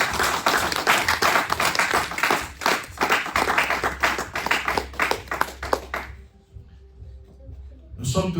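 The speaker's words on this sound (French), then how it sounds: "manifestons cela par des applaudissements devant Dieu" A church congregation in Paris claps together during a worship assembly, steady loud applause for about six seconds before fading into a quiet pause, then a fresh burst at the end.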